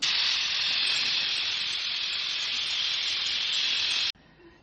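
A pressure cooker cooking biryani releases steam in a loud, continuous, close hiss that runs steadily for about four seconds and then cuts off abruptly, leaving only faint background noise.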